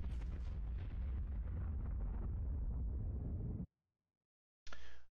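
A Star Citizen spaceship explodes in a loud, rumbling roar lasting a few seconds, then cuts to silence before a brief second burst.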